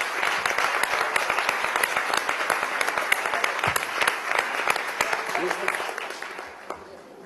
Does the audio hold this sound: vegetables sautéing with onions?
no